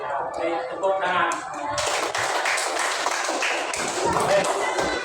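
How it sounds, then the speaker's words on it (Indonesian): Schoolchildren in a classroom clap together on the teacher's cue during an Islamic religious education lesson, a dense, lively patter of small hands under a background of voices. "Baik, tepuk tangan."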